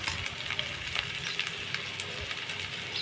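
Shrimp and taro greens fry in a pan with a steady, close crackling sizzle and faint stirring scrapes, with no talking over them.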